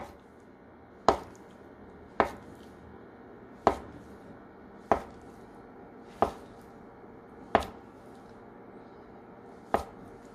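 Knife cutting tofu into thick slices, about 1 cm, on a cutting board for braised tofu, giving seven sharp, evenly spaced chops over a steady low background hum.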